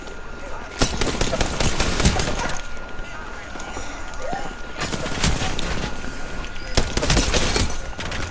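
Rapid bursts of automatic gunfire in a competitive shooter game, loud and close, coming in several clusters separated by short pauses, with players talking over the shots.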